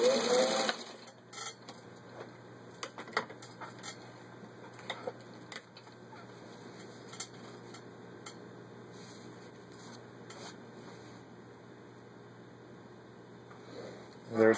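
A vintage 1953 Singer 15-91 industrial sewing machine runs steadily with a continuous motor hum and dense, rapid needle clatter, first at a good speed and then slower, with a few sharper clicks along the way.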